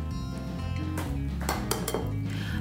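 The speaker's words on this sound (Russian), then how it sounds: "Для этого мы берем яйца куриные и взбиваем" Chicken eggs are whisked as for an omelette, with rapid clinking and tapping of a whisk against a bowl over a steady background hum.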